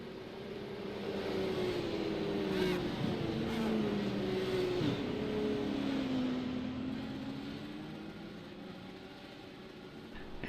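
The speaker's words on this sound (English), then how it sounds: "And we hear some cars that'll line up." Several IndyCar-style race cars in an iRacing oval race at New Hampshire drone steadily as they line up, their engines forming a continuous, moderately loud hum with slowly shifting pitch, with no voices.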